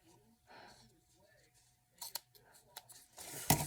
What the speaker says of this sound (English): I'm only going to cut these tabs about 1 inch long